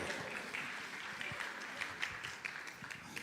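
A church congregation claps at a Sunday service in a steady wash of applause. It sounds faint and distant, with a few sharper claps near the end.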